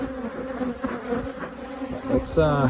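Agitated honeybees buzz loudly and steadily around an opened single brood chamber hive during a summer split, a dense close-up drone with a brief voice near the end.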